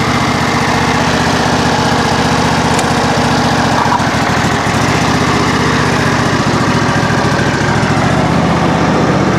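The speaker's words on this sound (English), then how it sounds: "now we'll go ahead and engage the transmission" A John Deere SST18 riding mower runs steadily up close with its transmission engaged, a loud continuous engine drone with mechanical vibration and no pauses.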